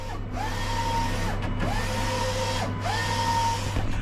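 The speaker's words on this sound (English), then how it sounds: "your stickers are on the printer" A sticker printer whirs steadily, its motor rising and falling in three repeating passes with brief pauses between, over a constant low hum.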